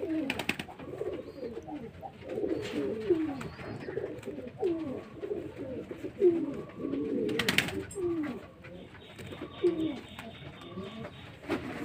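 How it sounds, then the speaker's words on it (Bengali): Pigeons kept by a hobbyist, a nol and a chhit pigeon among them, coo in soft repeated throaty phrases close by, with rustling and faint background noise around them. "একটা পায়রা নিয়ে নিয়েছি, এটা নল পায়রা, এটা ছিট পায়রা"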